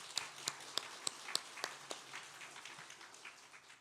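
A church congregation applauds after a worship song at a Sunday service. A few sharp, scattered claps stand out at first, then the clapping thins into a faint, patchy patter.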